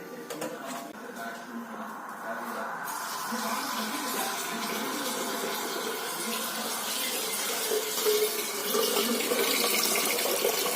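Tap water runs in a steady close stream into a home sink as dishes are left to soak, a continuous rushing fill with slight splashing throughout.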